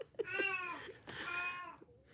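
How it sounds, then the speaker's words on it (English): A cat meows twice in long, drawn-out calls, close and fairly loud, with a short sharp sound at the start. "Control the cat!"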